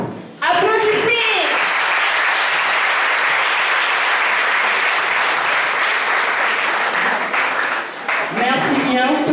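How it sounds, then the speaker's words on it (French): Sustained applause from an audience at a school journalism prize ceremony, starting abruptly, holding steady and loud for about eight seconds, then tapering as a voice speaks briefly at the start and again at the end. "Applaudissez."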